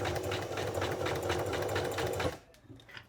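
A sewing machine stitches a straight seam, its needle running in a fast, steady mechanical rhythm up close for a couple of seconds before it stops and leaves a few faint clicks.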